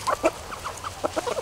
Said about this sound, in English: I have two roosters here